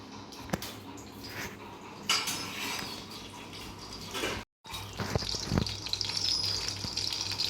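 Ghee poured into a pan while cooking for Ganesh puja, a soft gushing pour with scattered clinks of metal utensils, close and fairly quiet, with no talking.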